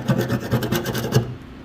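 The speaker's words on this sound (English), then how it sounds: "just with a gasket scraper, and it just comes off" A gasket scraper scrapes old gasket material off the steel of a Toyota Hilux being rebuilt, in about six quick, rhythmic, rasping strokes, loud and close, with no voices.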